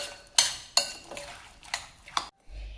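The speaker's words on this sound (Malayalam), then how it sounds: "ഇനി ഇതെല്ലാം കൂടി ഒന്ന് മിക്സ് ചെയ്യണം." Korean salad ingredients tossed together in a dish, with a few sharp clinks and scrapes of a utensil against the bowl spaced irregularly, close and alone without voice.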